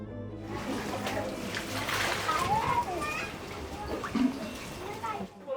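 Water flowing and splashing near an open gutter and tap in a crowded city settlement, a continuous wet sloshing and splattering heard close by, with voices of people talking in the background.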